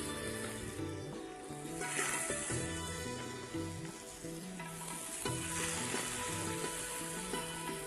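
Batter for cheese hot fingers fries in a pan, a continuous loud sizzle with bubbling crackle running through the whole stretch and no talk.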